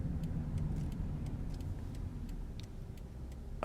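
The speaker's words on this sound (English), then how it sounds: "This car's whipping around the corner." A car drives through town streets in Norwich, Connecticut, on an overcast November day, a steady close road rumble with faint ticking on top and a brief louder swell at the end. No one talks.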